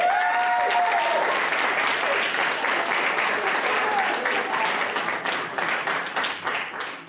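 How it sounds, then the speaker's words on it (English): A film festival audience applauds the filmmakers in a dense, sustained wash of clapping that holds steady and then thins slightly toward the end. "Let's give them all a big round of applause."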